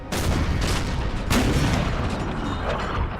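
Cannon fire rolls across a battlefield in Empire: Total War, a dense rumble of booms with several sharp reports standing out above the sustained gunfire.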